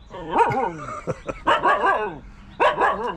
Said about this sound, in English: Crazy ridgeback wild beach dog.